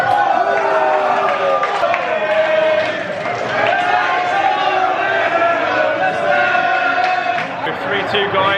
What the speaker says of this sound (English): Despondent crowd at the moment.